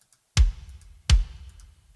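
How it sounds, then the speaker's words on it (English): Two deep one-shot hits from a Tama 22-inch kick drum with the resonant head off, each a punchy attack with a short low boom, evenly spaced and alone. "resonant head off 22-inch kick sound,"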